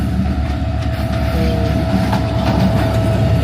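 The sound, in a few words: Dhaka-bound train passing by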